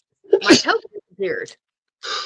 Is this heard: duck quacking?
no